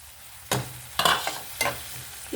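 Chopped ridge gourd pieces fry in a pan with turmeric, giving a close, steady sizzle and three or four scraping bursts as a spoon stirs them, without any talking.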